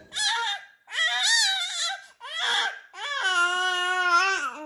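A baby yells and cries loudly in four bursts separated by short gaps, the final one a long, sustained wail, with no talking over it.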